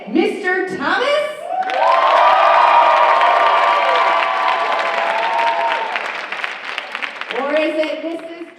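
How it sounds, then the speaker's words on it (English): A school auditorium audience at a faculty writing contest claps, cheers and whoops loudly to vote for a contestant, a long swelling roar of applause with shouting voices, framed by brief speech at the start and end. "You vote by your round of applause"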